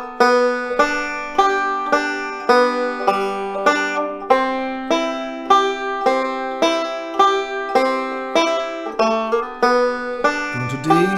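A plucked banjo plays "Boil Them Cabbage Down" with bright, evenly spaced notes in a steady rolling rhythm, close and clear, ending on a final strummed chord.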